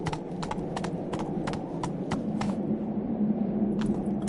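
Hooves of the horse Roach in The Witcher video game, clip-clopping in a steady, regular trot over a low rumbling ambience before briefly pausing and resuming.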